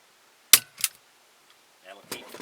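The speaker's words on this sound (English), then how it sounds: "I'll take this and I'll put a staple in it to hold it" A staple gun fires twice into the wood of a handmade ventriloquist dummy, two sharp close snaps in quick succession, followed by brief handling clatter.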